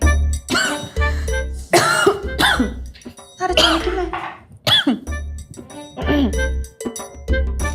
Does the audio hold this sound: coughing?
yes